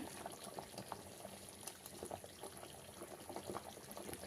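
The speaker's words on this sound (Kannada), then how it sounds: "ನೋಡಿ ಸಾಂಬಾರು ಆಲ್ರೆಡಿ ಕುದೀತಾ ಇದೆ" Cauliflower masala sambar boils in a covered pot, giving a faint, steady bubbling with soft scattered pops close by and no voices.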